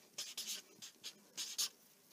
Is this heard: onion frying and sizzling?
no